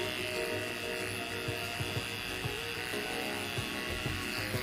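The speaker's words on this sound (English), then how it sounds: "you can use the small clipper just to clean it up" Small electric beard clipper trimming leftover hair during beard grooming, giving a continuous close buzzing whine with slight wavering as it moves across the face.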